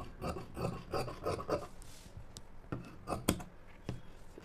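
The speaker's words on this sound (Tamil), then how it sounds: "இன்னும் ரெண்டு பட்டி கட் பண்ணிக்குவோம்." Scissors cutting fabric strips for a blouse, several quick snipping and rustling strokes in bursts followed by a few separate crisp clicks, close by and with no voices.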